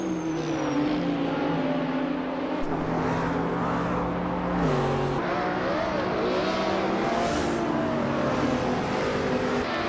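Several racing cars lap a track, among them a 2019 Ferrari Portofino; loud, steady engine drone with pitch rising and dropping as the cars accelerate and shift, continuous and close throughout.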